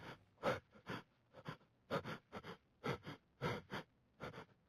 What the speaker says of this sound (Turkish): Oğlum nefes sesine bak.